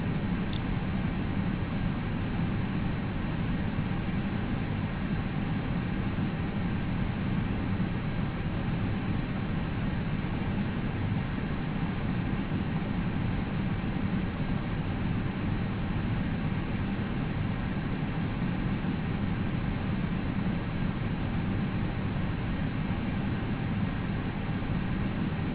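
Airliner taking off from Taoyuan International Airport in Taiwan, heard as a steady, continuous low roar of jet engines that holds evenly throughout with no pauses.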